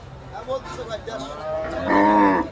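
A Holstein Friesian bull at a cattle sale moos once, a loud, drawn-out low bellow that swells near the end, preceded by a few softer grunting sounds.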